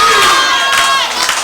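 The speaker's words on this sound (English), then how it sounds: "Crowd is getting amped up" Loud, dense wrestling crowd cheering and shouting at an independent wrestling event, a sustained roar of many voices close at hand.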